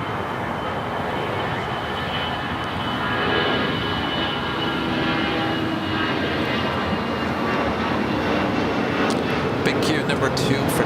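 A jet airplane roars steadily on takeoff at Los Angeles LAX airport, a broad sustained engine rumble heard from a distance that holds level throughout.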